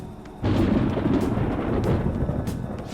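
Thunder and rain in the video game Persona 5 Royal: a sudden loud rumble bursts in after a quiet moment and rolls on steadily as a dense, broad roar, with no voices.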